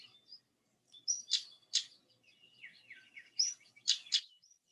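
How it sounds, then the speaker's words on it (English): Bird in South Devon summer countryside giving sharp, hard clicking calls like two flints knapped together, several quick bursts in two clusters with softer chirps between, fairly faint and distant. "It sounds like two flints being knapped together."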